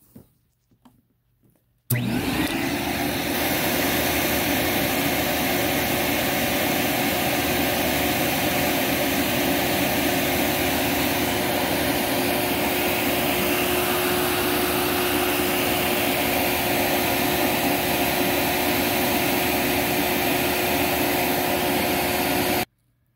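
A Simplicity 7350 vacuum cleaner starts up after a moment of near silence and runs loudly and steadily, its motor roar and airflow whine holding constant during an airflow and suction test at the hose.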